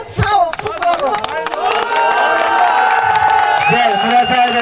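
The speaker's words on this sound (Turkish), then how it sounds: "Ve hepimiz alkışlayalım." Festival crowd applauding outdoors at the Kuyucak festival, loud continuous clapping mixed with cheers and whoops from many people, sustained throughout with a dense, close, lively texture.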